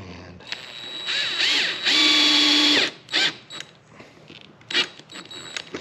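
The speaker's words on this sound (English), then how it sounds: "we're just gonna put this on the other side and screw the whole thing together" A power drill drives screws into a DIY fly casting basket, whining loudly in a sustained run, then in shorter bursts with ratcheting clicks and handling noise between them.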